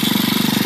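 A Whizzer motorbike engine, fitted with a prototype automatic clutch, runs steadily and loudly close by, with a fast, regular pulsing chug throughout.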